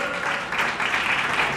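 Audience applauding an orchestra at a live show, a dense wash of clapping that holds steady and fairly loud the whole time, with no one talking over it.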